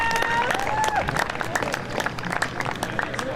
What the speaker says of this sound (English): Please give a round of applause for Olivia.